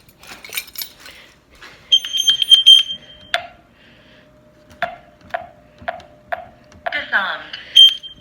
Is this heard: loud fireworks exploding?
no